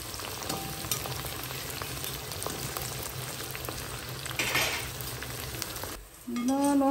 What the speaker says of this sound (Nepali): मजासँग गोल्डन ब्राउन हुँदै पकाउने।